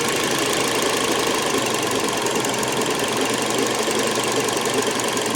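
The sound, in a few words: Toyota Corolla engine idling roughly when cold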